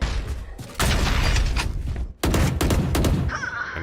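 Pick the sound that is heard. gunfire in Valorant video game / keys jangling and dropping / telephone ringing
gunfire in Valorant video game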